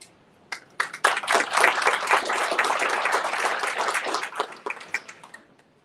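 Audience at an economic development breakfast breaks into applause: a few isolated claps build into a steady round of clapping, then thin out to scattered claps at the end.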